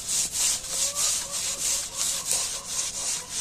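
A blackened surface is scrubbed clean by hand in quick, regular back-and-forth strokes, each a rasping swish, about a dozen evenly paced passes, close and fairly quiet.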